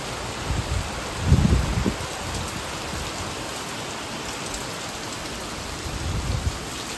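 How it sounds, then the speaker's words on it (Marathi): Heavy monsoon rain pours steadily in Lonavala, a dense continuous hiss with a few louder gusts and low rumbles that suggest distant thunder. "खूप जास्त पाऊस आहे."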